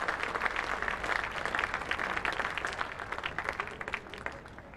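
Cricket crowd applauding a fifty partnership for the last wicket at a Test match at Trent Bridge, England versus West Indies; steady, moderately distant clapping from a large crowd, sustained throughout.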